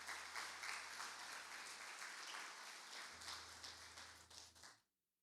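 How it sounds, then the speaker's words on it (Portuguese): A church congregation applauds a married couple during a worship service, with steady, dense, continuous clapping for several seconds, then the applause cuts off abruptly near the end. "Vamos aplaudir o Senhor pela vida desse casal."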